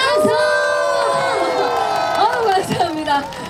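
An outdoor festival crowd at the Uiryeong Hongui General Festival cheers and shouts loudly all together, with raised voices swelling throughout and a brief burst of whoops near the end.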